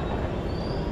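Mumbai metro train running, a steady low rumble with faint wheel hiss filling one continuous second, no voices.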